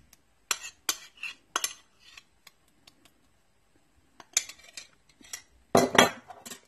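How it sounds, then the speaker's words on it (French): Softened butter being worked in a bowl with a utensil for a chocolate pear cake gives sporadic clinks and scrapes, close and fairly quiet, in irregular bursts with short pauses between. "Je vais bien mélanger les deux."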